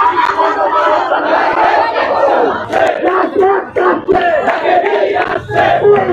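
A protest march crowd in Dhaka demands an ordinance for Dhaka Central University. Many voices chant and shout loudly together in a close, rhythmic roar, with overlapping chatter.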